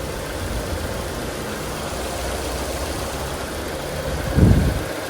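A car engine idles steadily as its cooling system is bled, a continuous low rumbling hum with a short louder thump near the end.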